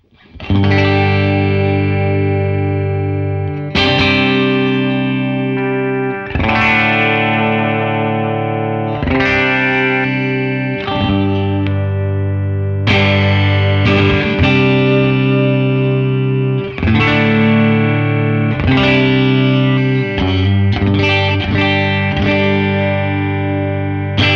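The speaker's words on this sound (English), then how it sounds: "let's try this Rosewood neck Telly now. Just got a little bit of reverb on the amp" A rosewood-neck Fender American Professional Classic Telecaster plays sustained, ringing chords through an amplifier with light reverb, strummed every few seconds and left to ring out, loud and clear with no voices.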